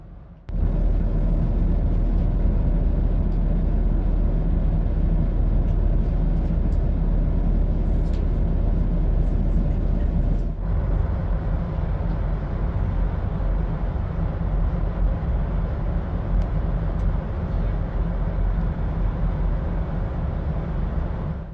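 A Northern Class 170 diesel train running between York and Leeds, with a continuous deep rumble and steady running noise throughout and a brief soft knock partway through.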